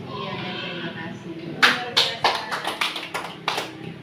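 In a classroom, a few pairs of hands clap in a quick, fairly close burst of sharp slaps that follows a stretch of murmured talk.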